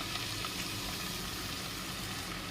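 Freshly cut ivy gourd pieces hitting hot oil in a pan, giving a loud, dense, continuous sizzle at close range with no voices over it.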